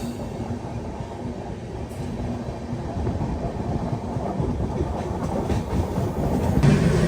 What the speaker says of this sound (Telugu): ఏదో ట్రైన్ క్రాసింగ్ పడింది